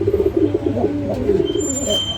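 Domestic pigeons coo in a low, throaty, rolling warble, close and continuous, with soft overlapping calls from birds squabbling in a coop.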